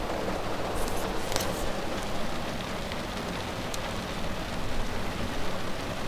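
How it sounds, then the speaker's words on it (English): Steady rain pours down at a beach, a dense, constant hiss of drops striking sand and surfaces, loud and unbroken throughout with slight swells in intensity. "Listen to that rain!"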